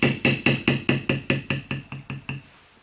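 A Barry King beveler tool struck repeatedly with a mallet to tool leather, giving about ten sharp, even knocks in a steady rhythm, each one a little fainter than the last, close up with no other sound.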